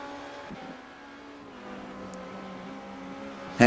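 A race car engine in an iRacing sim at Silverstone holds a steady mid-distance drone, shifting pitch slightly as it takes a corner, with a brief louder burst at the end.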